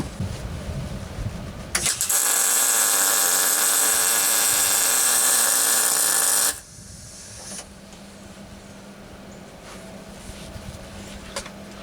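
MIG welder laying a bead on a rusty trailer tongue, a loud steady crackling hiss for about five seconds that cuts off abruptly, followed by quieter background noise.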